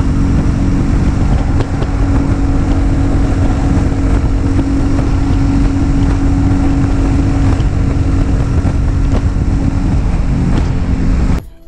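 A Royal Enfield Classic 350 motorcycle being ridden, its engine a steady, loud low thrum with wind rush over the microphone, continuous until an abrupt cut at the end.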